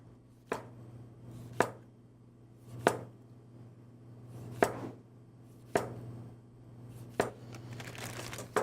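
A knife chops food on a cutting board in slow, evenly spaced strokes, about seven crisp thuds over a steady low hum.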